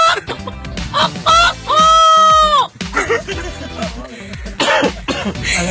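A man imitates a rooster crowing with his voice, a loud, long sustained call in the middle with shorter vocal bursts before and after, performed close up as a comic routine.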